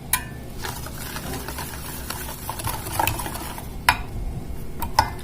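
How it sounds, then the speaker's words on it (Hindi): A cake batter being stirred together with finely ground biscuits, with soft scraping and stirring through a bowl and a few sharper knocks of a spoon against the side, close and moderate in level. "फिर इसे मिलाइए।"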